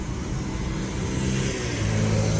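Engines of the motorbikes carried by Kanwar pilgrims during Sawan, passing from behind on a road, give a steady, loud, low rumble with rising revs throughout, with no talk over it.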